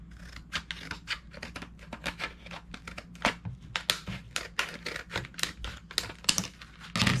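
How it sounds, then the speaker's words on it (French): Scissors snip repeatedly through rigid plastic blister packaging during an unboxing, giving quick sharp cuts and crinkles in an irregular rhythm, close up with no talk. "Là, c'est quand même un emballage assez rigide. Je vais voir avec mes ciseaux si je suis capable"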